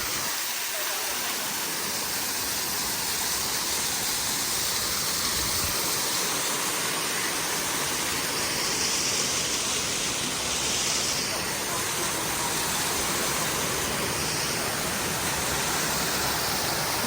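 Waterfalls on a stream along a short, easy hike roar as a steady, broadband rush of falling water, loud and unbroken throughout, with no clear voices over it.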